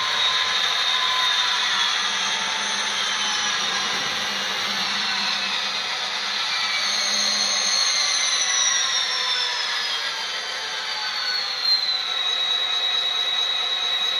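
An Athearn SD40 model locomotive's engine sound winds down from notch 8 toward idle, a steady whining drone that slowly falls in pitch over about fourteen seconds, with no voices.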